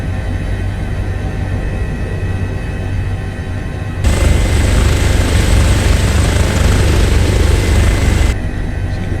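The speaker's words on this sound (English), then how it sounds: "Wondering why this helicopter has come to break the peace and quiet." Airbus H145 helicopter in Microsoft Flight Simulator hovering low over Geirangerfjord, a loud continuous engine whine and rotor drone that steps up sharply in intensity midway, then eases back near the end.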